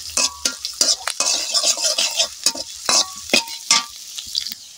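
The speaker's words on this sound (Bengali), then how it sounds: "নেড়ে চেড়ে একটু ভেজে নিচ্ছি।" Chopped onion fries in a pan while a spoon stirs it, with rhythmic metallic clinks and scrapes over a soft sizzle, close by and without speech.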